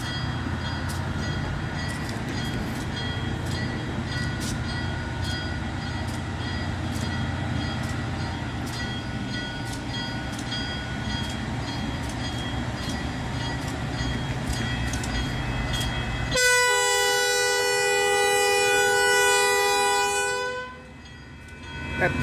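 A Norfolk Southern double-header freight train rumbles steadily past with dense low engine noise, then a loud, sustained multi-tone horn blast near the end before the sound drops away.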